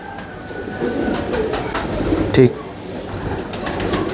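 Male pigeons coo in low, repeated calls, one brief louder burst standing out near the middle, while someone talks over them.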